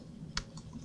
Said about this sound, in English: That's typing, good.